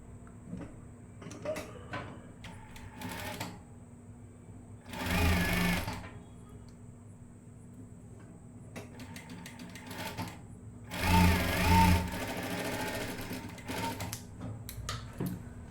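A sewing machine stitching a straight line along a garment neckline, two loud bursts of rapid mechanical whirring of about a second each, separated by quieter clicks and handling noises.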